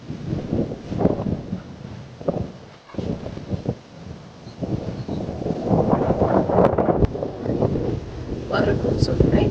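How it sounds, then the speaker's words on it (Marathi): Strong wind blows outdoors across a farm field in gusty waves that buffet the microphone, rising and falling in loudness. People are talking over it. "वारं खूप सुटलंय."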